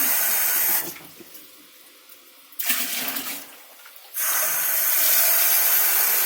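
Water poured into a vessel while diluting homemade ethanol toward 40 percent, a loud close splashing rush that stops and restarts twice, with quieter gaps between bursts.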